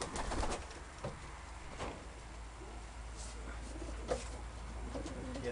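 A racing pigeon coos softly in repeated calls against a steady background hum, with a few faint rustles and wing sounds.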